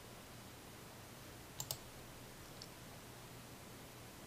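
A quick double click of a computer mouse, two sharp faint ticks close together followed by a fainter single tick, over a quiet background hum with no voices.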